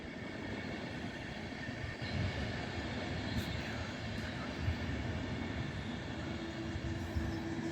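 A Vectron electric locomotive hauls a train through Warszawa Wschodnia station, making a steady, moderately distant rumble of rolling wheels with faint rail squeal throughout.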